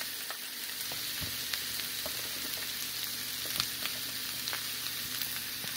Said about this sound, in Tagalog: Ilagay na natin ang Baguio beans kasi luto na yung ground pork natin.